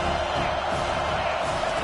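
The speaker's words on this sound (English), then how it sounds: "Decibels rising as the crowd gets behind this defense on third down." Football stadium crowd at a Clemson versus Penn State college game roaring in support of the defense on third down, a dense, steady wall of cheering and shouting that stays loud for the whole stretch.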